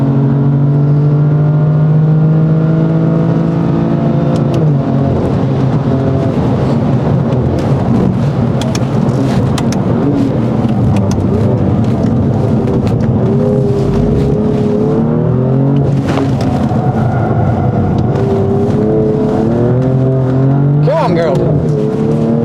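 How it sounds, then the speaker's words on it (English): BMW M4 on a race track, its engine droning loud and steady throughout with rising and falling revs as it slides through corners, under the continuous roar of the car. "It's an M4, isn't it? It's all over the place."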